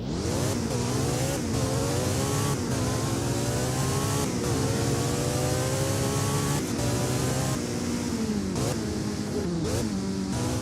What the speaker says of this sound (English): But the cool thing about this car is the sound. I mean, the sound is just amazing. Just listen to this.